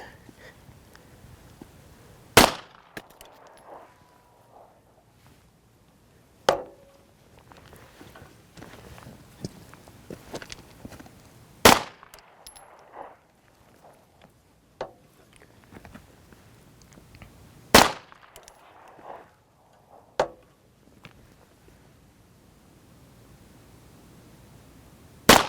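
Watchtower Apache 9mm pistol rounds are fired at a range, about six sharp, loud reports spaced several seconds apart, with quiet handling clicks and shuffling in the gaps between shots.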